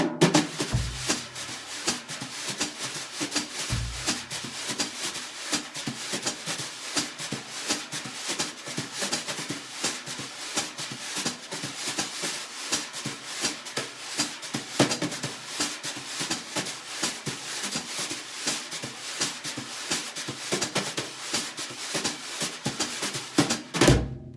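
Jazz brushes sweep and tap on a drum, mixing two patterns into a steady, loose shuffle of swishing strokes and soft accents, close and continuous throughout with no talking.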